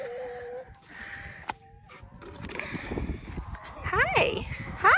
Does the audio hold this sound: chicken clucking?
yes